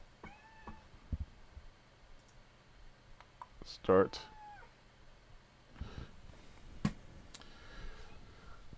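A pet cat meows several times indoors, short rising calls scattered among clicks and desk noises, with a person talking nearby.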